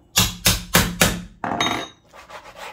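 An axe chops duck bones on a board with four sharp, evenly spaced strikes, then a couple of softer knocks, close and loud.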